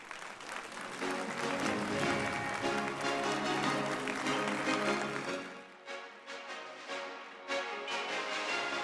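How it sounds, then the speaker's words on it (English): A crowd applauds loudly and steadily at a peace leaders' conference, the clapping holding strong for several seconds before thinning out into scattered claps. "Let's welcome Chairwoman of IWPG with a big round of applause."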